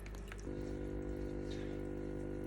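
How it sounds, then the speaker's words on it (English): Water runs steadily from a tap or hose to top up a home fish tank, a continuous close pouring rush that starts after a brief quiet moment and holds evenly to the end. "So I'm just going to top up her water."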